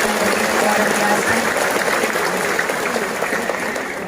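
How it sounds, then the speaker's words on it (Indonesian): A large audience at an Islamic religious gathering applauds the organising committee, a steady, dense wash of clapping sustained throughout without a break. "Saya minta tepuk tangan dulu buat para panitia kita yang begitu luar biasa."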